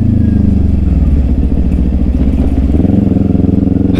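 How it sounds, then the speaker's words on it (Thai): A slack drive chain rattles on a Kawasaki Ninja 400 motorcycle, a steady dense clatter riding over the loud, close engine drone while the bike is running. "ถ้าท่านได้ยินเสียงแซกๆๆๆนี่มันคือเสียงโซ่นะ"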